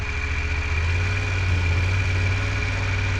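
A motorcycle engine runs at low speed during a slow U-turn, giving a steady, close, low idling rumble with no clear revving.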